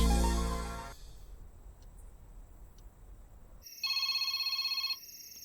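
A telephone rings with a bright electronic ringtone in a Bhojpuri comedy film scene, a single loud burst of about a second after a stretch of quiet room tone, with a loud sound at the very start.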